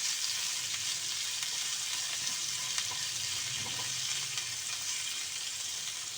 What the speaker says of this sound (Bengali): এইভাবে করে আমি ঢ্যাঁড়সটাকে ভেজে নেব।